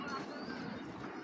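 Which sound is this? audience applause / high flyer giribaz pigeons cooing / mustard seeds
high flyer giribaz pigeons cooing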